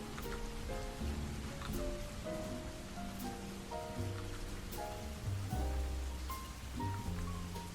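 A steady rain sound effect patters evenly throughout, mixed under soft melodic background music, with no talking.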